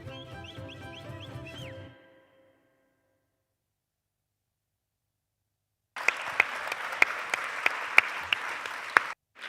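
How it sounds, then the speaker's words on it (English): At a European Heritage Excellence Day ceremony, a brief voiced passage gives way to silence, then a full audience breaks into sustained applause, dense and steady with sharper individual claps standing out, before stopping abruptly. "A warm applause"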